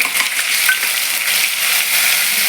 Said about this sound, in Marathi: थोडंसं जिरं टाकून देते आणि लसूण आणि अद्रकची पेस्ट केलेली ते टाकते